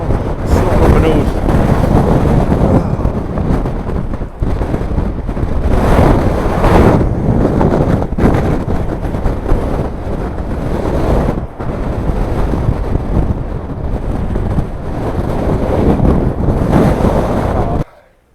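Strong Storm Babet winds buffet the microphone with heavy roaring gusts while huge waves crash along the Arbroath coast, a loud, constant, surging wash of wind and surf throughout.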